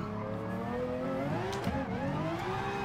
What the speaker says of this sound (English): that diff whine, that gearbox whine, whatever it is that Gran Turismo adds on top of all of their performance cars, almost drowns the sound of the engine out